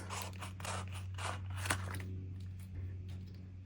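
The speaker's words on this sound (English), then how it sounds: "So let me just cut this." Scissors snip through sticker sheets for a paper planner, producing a close run of crisp, rhythmic cuts that thin out into softer scraping near the end.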